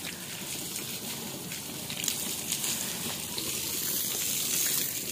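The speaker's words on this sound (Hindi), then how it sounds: "आराम से इधर पानी न मारना।" Steady hose water spraying onto fresh concrete to cure a newly built village house, a continuous broad rushing wash that swells slightly louder toward the end, with no talking.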